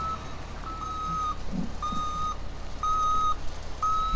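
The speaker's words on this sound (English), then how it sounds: "This thing's kind of cool too, minus the girly backup sound." A Claas farm machine sounds its reversing alarm: a steady series of high, evenly spaced electronic beeps, about one per second, over a low engine rumble outdoors.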